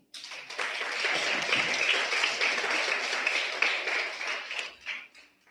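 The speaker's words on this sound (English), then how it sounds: "Give them a round of applause." Audience applause for students at a primary school environmental quiz and expo championship: a dense, steady burst of many hands clapping for about five seconds, then fading out quickly.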